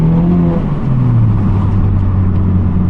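A 2023 Mazda 3 four-cylinder engine accelerating hard, its deep, throaty drone rising in pitch and dropping at a gear shift before climbing again, loud and close throughout.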